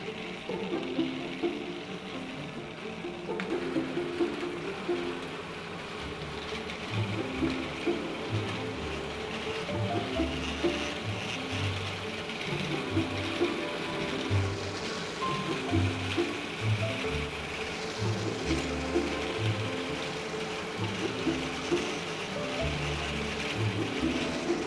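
A silk bobbin winding machine runs at the Macclesfield Silk Museum, giving a steady, loud mechanical clatter and whir with a fast, even rhythm throughout, no voices.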